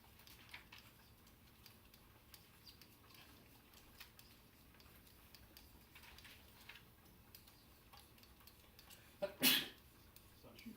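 A single abrupt sneeze near the end, loud and close, in a quiet classroom with faint rustles and ticks before it.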